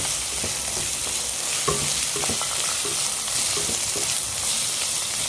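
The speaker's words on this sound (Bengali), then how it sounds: "আর অল্পখানি এটা কষিয়ে নেব" Masala with chopped tomatoes and chicken sautés in a pan, giving a loud, continuous close sizzle with rhythmic spoon scrapes and stirring knocks throughout and no talking.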